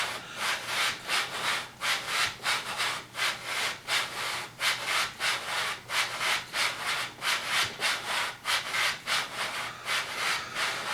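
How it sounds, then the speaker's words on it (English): Steady rhythmic sanding of the inside of rifle scope rings, a rough rubbing stroke repeated back and forth about twice a second, close and even, with no voices. "you're sanding the inside of the rings"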